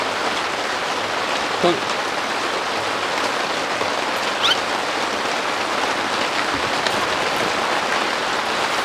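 Heavy autumn rain pours steadily at a dog-friendly campsite, a dense, even hiss of drops on surfaces with a few faint knocks and brief sounds mixed in, and no talk.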